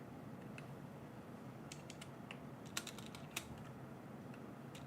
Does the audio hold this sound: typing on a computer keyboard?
yes